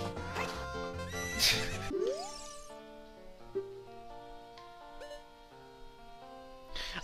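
A horse whinnies in The Legend of Zelda: Ocarina of Time, with game music and effects playing around it. The call is brief and fairly clear.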